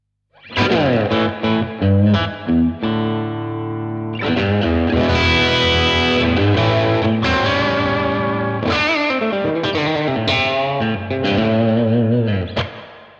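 Crunchy, moderately overdriven electric guitar through a Blackstar TV-10 amp, boosted channel at half gain, playing chords and short riffs with some reverb, loud and clear, no talking.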